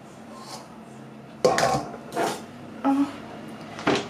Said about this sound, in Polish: I teraz pokroję, słuchajcie, cukinię.